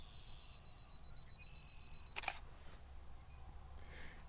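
A DSLR camera set to manual on a 2-second timer beeps softly, then fires one sharp shutter click midway, followed by a faint electronic tone, outdoors with a quiet background.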